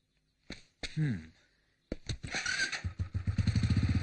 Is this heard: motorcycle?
yes